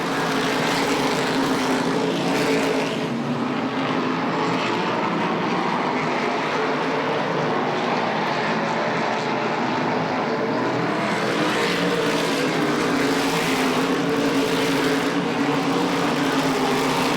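Race cars running side by side down the front straightaway at Lee USA Speedway during an ACT event, a loud sustained engine roar that swells and fades slightly as the pack passes.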